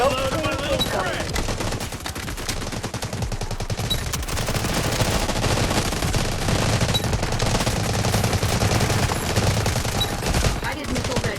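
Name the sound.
Bizon submachine gun firing in Delta Force video game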